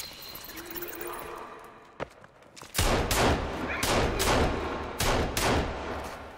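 Rapid gunfire in the survival video game Sons of the Forest: a single sharp shot, then a burst of repeated, loud, close shots emptying a full magazine, with brief gaps between bursts.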